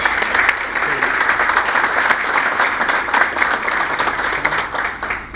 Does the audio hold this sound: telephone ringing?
no